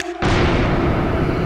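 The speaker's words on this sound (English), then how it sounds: "Detonator acquired to drop bombs." Bomb blast in the video game Dynamite Jack, a sudden loud, close boom that bursts in and holds as a dense rumbling roar to the end.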